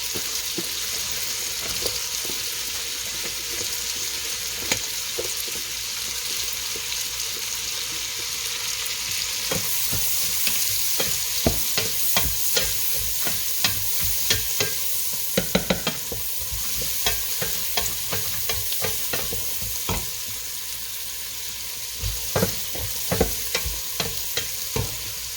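Celery and carrot fry in a pot for clam chowder, a continuous sizzling hiss broken by repeated clicks and scrapes of stirring, fairly close and steady throughout.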